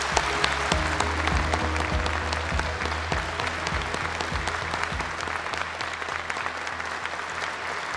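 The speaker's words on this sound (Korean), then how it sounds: "오늘 역사적인 KF-21 시제기 출고를 이끈 20명의 개발진들에게 다시 한번 힘찬 박수를 부탁드립니다" Sustained applause for the KF-21 prototype development team at a rollout ceremony in a KAI factory in Sacheon, sharp individual claps ringing out over a steady hall ambience and low hum for several seconds.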